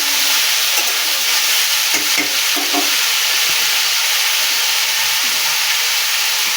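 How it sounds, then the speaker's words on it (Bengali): Potatoes stirred and frying in a pan on a gas stove, a steady loud sizzle with scraping stirring strokes near two to three seconds, no voices. "আলুগুলো একটা দিকে নেড়ে নিয়েছিলাম।"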